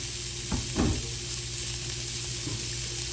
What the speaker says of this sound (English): We're just going to cook these onions just a little bit. Not much. I'm just going to put like a little char on them.